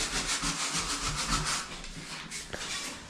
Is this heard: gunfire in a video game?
no